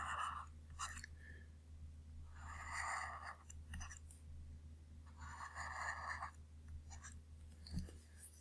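Pen or marker strokes drawing lines on a board during a capacitor physics lecture, several scratchy bursts of varying length close by, quiet over a low steady hum.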